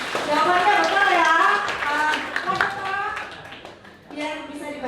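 Students clapping in a school classroom during a photography lesson, a short patter of hands mixed with loud, close talk from a teacher and children, the clapping fading under the voices.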